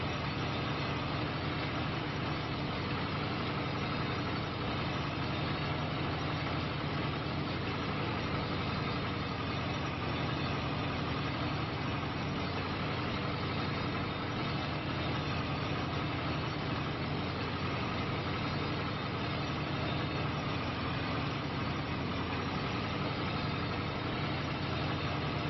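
A tractor engine idles in Farming Simulator 25, a steady low mechanical rumble holding even and unbroken throughout with no voices.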